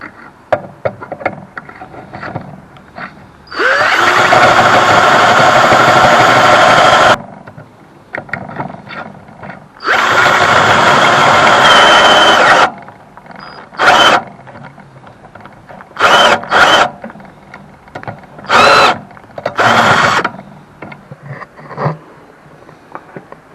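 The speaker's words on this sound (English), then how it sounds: "then use a normal drill bit to finish off where the screw will actually go in" A power drill whines loudly into wood in two long bursts, followed by several short, sharp trigger pulls with quiet pauses between.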